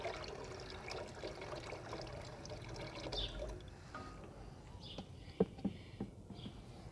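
Water pours and trickles into kadhi pakora batter, soft and close, with a few small splashes and clinks toward the end.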